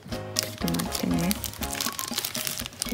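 A tightly taped package being pulled open, with crinkling and crunching packaging and tape up close in short irregular bursts, partly under talking.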